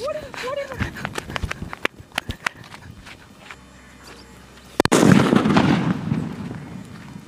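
Scattered sharp cracks and pops lead into a loud Diwali firecracker blast in a village that roars and crackles, then slowly dies away, with faint voices earlier.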